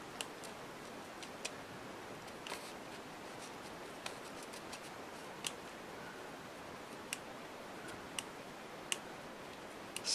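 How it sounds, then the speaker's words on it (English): Scissors snipping paper during fussy cutting for scrapbooking, giving a series of small, sharp, irregularly spaced clicks over a quiet background hiss, close to the listener and with no talking. "I take my scissor up in that hole we snipped"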